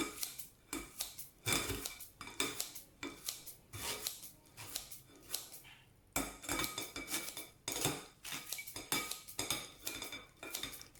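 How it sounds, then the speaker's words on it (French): Soaked vermicelli is cut with kitchen scissors, a quiet series of close, rhythmic snips and metallic clicks repeating steadily with short pauses. "Donc je la laisse égoutter de l'eau et je vais la couper avec le ciseau"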